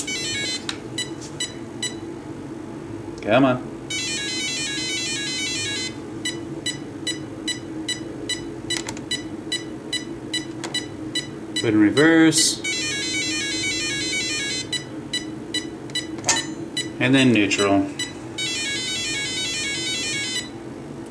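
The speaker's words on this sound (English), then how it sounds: "now we get to hear a whole bunch of funny little noises and beeps" Repeated series of electronic beeps and chirpy tone patterns from a Castle Sv3 speed controller being programmed in a Traxxas Slash RC car come in bursts, with someone speaking briefly between them.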